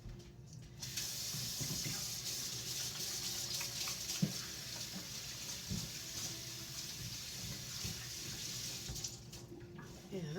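Running tap water splashing steadily into a sink while hands are washed, a continuous close hiss lasting several seconds before the tap is shut off, with faint knocks and no clear talking.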